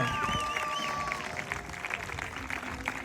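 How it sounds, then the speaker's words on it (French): A crowd applauds riders at a Camargue manade day with a ferrade and rodeo demonstration: dense, steady clapping fills the air throughout, with a thin whistle-like tone and scattered voices mixed in. "On les applaudit plus fort, je vous entends pas"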